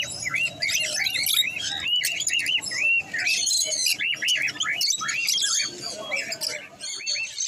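Many caged exotic birds, including cockatiels, chirp and squawk nonstop at a busy Sunday bird market in Serampore, a dense, loud, overlapping chorus of repeated rising calls close at hand.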